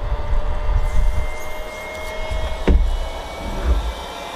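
Steady whir of the powered air blower unit on a 3M Speedglas G5-01 welding helmet, a constant fan hum with a faint high tone, a brief click partway through and low rumbling handling noise.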